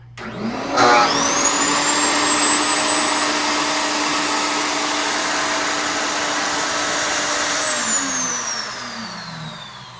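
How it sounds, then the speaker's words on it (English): A Triton router mounted in a Kreg router table starts up with a sharp rising whine, runs at a loud, steady high pitch for about seven seconds, then spins down as it shuts off. "I have installed the Triton router into the router table. Now let's turn it on, make sure everything's working."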